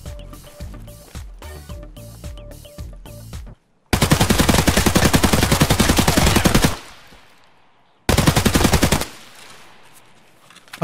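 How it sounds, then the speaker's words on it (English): Automatic gunfire in Escape from Tarkov, a shooter game: rapid loud bursts of shots, a long sustained string followed by a pause and another burst, with shorter rhythmic shots at the start and no talking. "I was shooting in a corpse."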